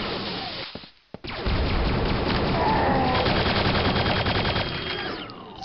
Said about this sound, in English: I have to shoot at them.